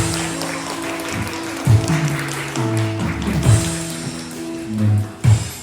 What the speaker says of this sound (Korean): 박수 주세요. 박수.